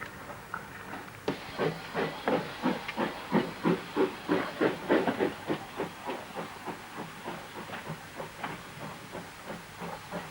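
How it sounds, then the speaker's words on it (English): West Country's last working industrial steam locomotive, Number 3, puffs in rhythmic bursts of hissing steam, the chuffs starting abruptly, building loud and close, then slowly fading and thinning out. "it is the West Country's last working industrial steam locomotive"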